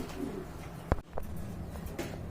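A pair of white and black Rajgolla pigeons coo softly at close range, with one sharp knock and a steady low background murmur.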